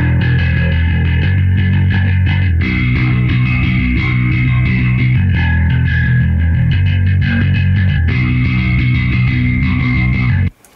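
An isolated bass track from a rock song plays steadily with a thick, slightly modulated tone and rhythmic low notes, loud and alone with no voices, cutting off abruptly at the end.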